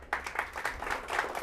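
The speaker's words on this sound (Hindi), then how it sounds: "सबसे पहले ज़ोरदार तालियों से" Audience at an ashram family gathering giving a round of applause, brief rhythmic clapping bursts from a group, fairly soft and distant with little else around it.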